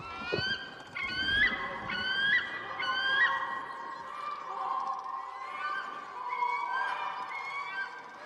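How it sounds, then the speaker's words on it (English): Geese in the New World video game, honking in a series of loud rising calls near the listener, repeated in bursts over a steady ambient game background. "I hear geese."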